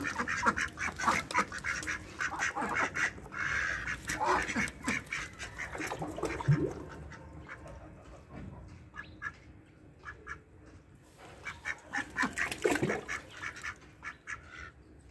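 Mallard ducks kept on a rooftop with a small pool quack repeatedly in loud, close bursts of rapid calls, with quieter gaps between the rounds of quacking.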